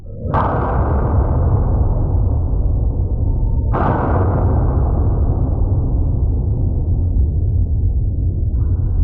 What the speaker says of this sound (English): Shots fired, Central. Shots fired, Central.